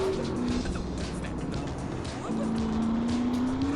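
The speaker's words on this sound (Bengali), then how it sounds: "এরা এত স্পিডে বাইক চালায়" Motorbikes speed along in the GTA San Andreas video game, with a steady engine drone and rising whine that run without pause and sit close and loud, and tire noise is mixed in.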